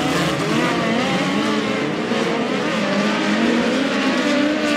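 A midget race car engine roars at Valley Speedway during a POWRi National and West Midget League race, a loud, continuous, high-revving drone that holds steady and close throughout.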